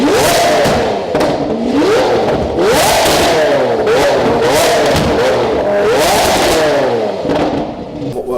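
Lamborghini Huracan LP610 fitted with a Fi valved exhaust revs hard and loud, the engine note sweeping up and down repeatedly in sharp blips and sustained climbs, close and dominating throughout.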